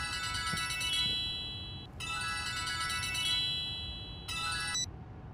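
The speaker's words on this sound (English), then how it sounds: "Your phone is ringing." A mobile phone rings in a Hindi film scene, its bright electronic ringtone sounding in three bursts with short gaps, steady and clear over a low background hum.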